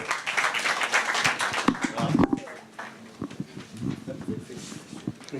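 Audience applause breaking out after a banking-sector startup pitch, a dense patter of clapping that fades after about two seconds into scattered claps with talk over it.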